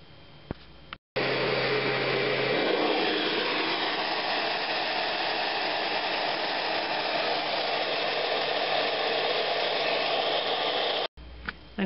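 Kirby Generation 6 upright vacuum cleaner running with a newly replaced belt, switching on into a loud, steady motor whine that holds for about ten seconds before cutting off abruptly.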